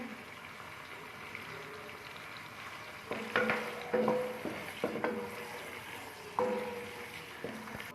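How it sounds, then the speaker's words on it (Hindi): Chopped green chillies dropped into a pot for matar pulao, with a low steady hiss and several sharp bursts of sizzling and stirring clatter, close and moderately loud. "इसके साथ ही जो 4 अदद मैंने सब्ज़ मिर्च को काटा था वो डाल लेते हैं"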